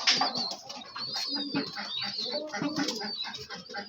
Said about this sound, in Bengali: আর এই যে কিছু কবুতর খাচ্ছে।